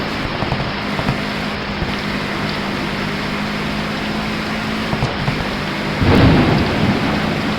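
Steady rain hisses with low rolling thunder in the Rush Rally 3 racing game on a Mexico stage, a continuous loud wash with a heavier rumble near the end.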